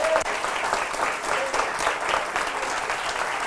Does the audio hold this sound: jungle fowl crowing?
no